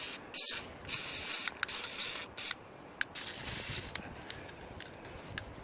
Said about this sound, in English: spray this area here with this lube.